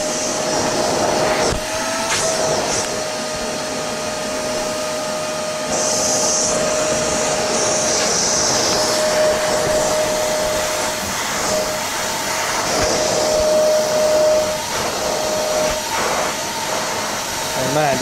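A vacuum cleaner runs continuously at close range while cleaning a backpack, a loud steady whine with a constant tone and brief changes in pitch as the nozzle moves, with a person talking over it.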